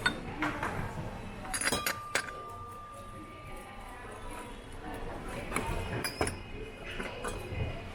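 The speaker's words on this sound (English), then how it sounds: "This is all clear glass." Clear glass items, including a cream and sugar set, clink and knock together as they are handled at an outlet bin store, giving a few sharp chimes over steady background noise.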